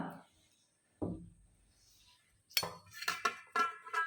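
A turmeric and rose water face pack being stirred in a small bowl, giving a few soft scrapes, then a run of quick clinks and taps of a spoon against the bowl, close and fairly faint.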